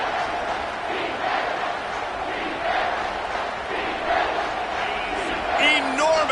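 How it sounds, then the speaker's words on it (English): A stadium crowd roars loudly on third down at a football game, a dense sustained wall of cheering and yelling with whistles near the end. "this crowd is bringing down the house"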